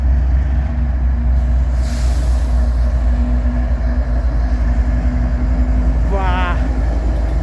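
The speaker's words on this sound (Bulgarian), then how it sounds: "Те са два локомотива." A freight train pulled by two locomotives rumbles past close by, a loud, continuous low roar with a brief rising squeal near the end, and voices faintly underneath.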